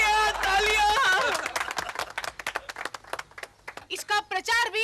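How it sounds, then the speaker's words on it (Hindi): Audience applause in a studio comedy setting, a burst of claps rising after a voice, then scattered and rhythmic clapping fading and swelling again toward the end, with talk over the start. "तालियां।"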